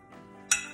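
A serving utensil scoops creamy baked food with crispy breadcrumb topping onto a plate, a soft scrape followed by a single bright clink of metal on dish, close and brief.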